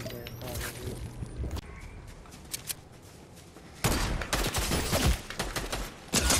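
Pistol gunfire in the video game Fortnite: sharp shots ring out in a few scattered pops, then a dense, rapid burst of loud firing in the second half, with game effects around it.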